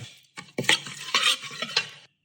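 Whisking marinade of lime, cheap dry white wine and other ingredients in a bowl for lamb kleftiko, heard as close, irregular scraping and clinking strokes in short bursts with brief pauses.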